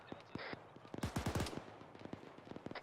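Distant gunshots from a sniper firing from a hill in a military game, a quick burst of several sharp cracks clustered together, with other scattered shots around them.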